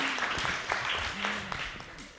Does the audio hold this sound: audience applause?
yes